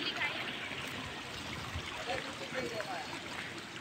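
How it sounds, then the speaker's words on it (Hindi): Water from the Jamoniya dam flows out into a canal, making a continuous, fairly close rushing and trickling wash that holds steady throughout. "ये देखिए यहाँ से पानी निकल रहा है"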